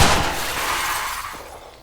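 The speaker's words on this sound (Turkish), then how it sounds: "Şöyle cam kırayım." Glass shatters in the shooter game Cuisine Royale, a loud sharp crash at the start that rings and tinkles away over under two seconds.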